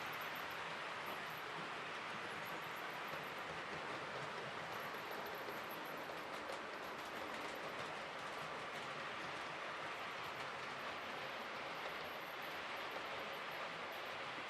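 A steady rumbling train running sound with faint rhythmic clatter, continuous and fairly loud throughout, with no voices.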